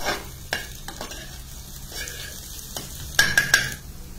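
Carrots are sautéed with softened fried onions in a pan for white sauce pasta and stirred over a constant sizzle. A spoon scrapes and knocks at intervals, close by, with a few sharper clinks near the end.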